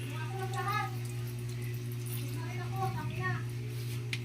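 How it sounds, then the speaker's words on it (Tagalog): Water is poured into a pot of paksiw, a soft steady trickle under a constant low kitchen hum while a person talks over it. "lagyan natin ng kunting tubig para may sabaw-sabaw rin"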